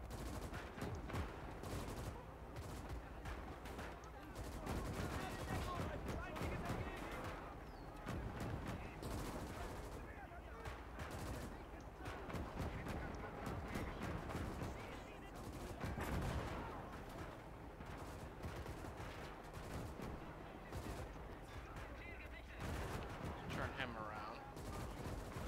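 Battle gunfire in the WWII game Gates of Hell, with an 88 gun firing amid a 1940 river crossing at Dinant: dense, continuous bursts of rifle and machine-gun fire with heavy booms, loud and chaotic throughout.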